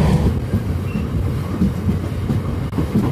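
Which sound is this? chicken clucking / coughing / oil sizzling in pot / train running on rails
train running on rails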